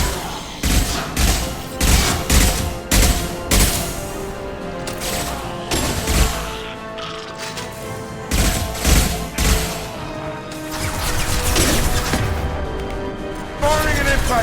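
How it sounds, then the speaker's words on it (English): Repeated heavy gunfire bursts from an impact gun in the video game Mass Effect 2, rhythmic clusters of loud shots with pauses between volleys, layered over game music and effects. "Firing an impact gun."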